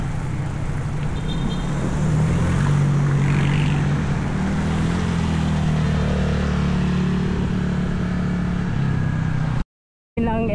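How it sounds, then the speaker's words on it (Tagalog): An airplane at Davao International Airport, heard from a bypass road beside the airfield, roars loud and steady with a broad engine drone, then cuts off abruptly near the end. "Ng aeroplano"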